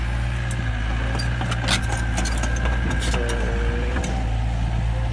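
A machine clearing a road in a garden for a drilling rig rumbles steadily as a low engine drone, with scattered metallic clinks and rattles on top.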